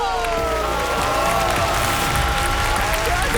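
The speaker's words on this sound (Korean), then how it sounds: "큰 박수 부탁드리겠습니다" Studio audience applause on a Korean KBS collectibles show as the final result is revealed, with continuous, loud clapping mixed with a tonal musical sting and a low rumble underneath.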